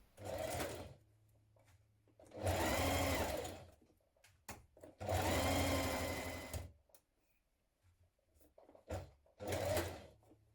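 A sewing machine stitches the shoulder and side seams of a Simplicity 8872 dress at a 1.5 cm seam allowance, running in several loud, close bursts of a few seconds each, separated by short quiet pauses.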